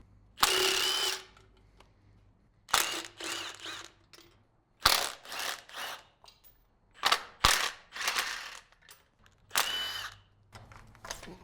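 A Milwaukee power ratchet with chrome sockets works bolts off a neglected Volvo five-cylinder engine, firing in several loud, separate bursts of whirring and rattling with short pauses between them.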